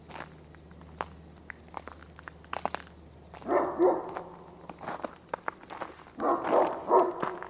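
Several dogs barking at a morning scene outdoors, in irregular bursts of rough, mid-distance barks clustered around two loud episodes, with scattered clicks and footstep-like taps between them and no talk.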